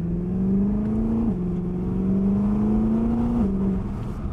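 A BMW M3 E92 engine accelerates hard, its loud, close revving tone climbing steadily, dropping briefly at a gear change, then climbing again.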